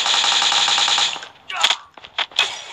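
Sniper gunfire in the mobile shooter game Call of Duty Mobile comes as a sustained rapid burst of shots that cuts off, then a few loud separate cracks and impacts follow close together.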